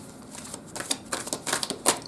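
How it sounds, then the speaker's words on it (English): Tarot cards being shuffled by hand, a soft run of papery riffles and flicks that grows busier toward the end, close and quiet, with no talking. "there's quite a few cards, so I'm going to keep shuffling"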